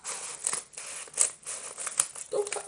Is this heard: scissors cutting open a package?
yes